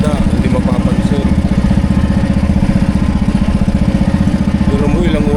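A fishing boat's engine runs nonstop at sea, a loud, close, steady chugging with an even, rapid pulsing beat that never lets up.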